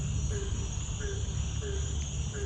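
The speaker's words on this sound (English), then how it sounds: "Frogs are in full force." At night on a dirt road after thunderstorms, a steady, dense chorus of frogs and insects trills continuously, with high cricket buzzing and a repeating call every half second or so. The chorus is moderately distant and no one speaks over it.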